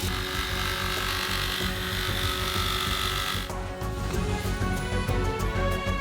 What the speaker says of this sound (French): Et sciez le tuyau avec une scie sauteuse.